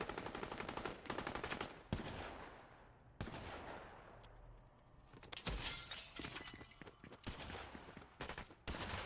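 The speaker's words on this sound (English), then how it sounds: "we've got some close gunfire" Close gunfire in the Fortnite video game, several sharp bursts of rapid shots with loud cracks and breaking debris, separated by short quieter gaps and ringing tails.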